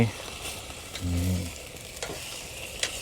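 A steady crackling sizzle of meat frying in a nonstick Teflon pan at a campsite by rice fields, with a brief low hum partway through and a few scraping clinks; no voices.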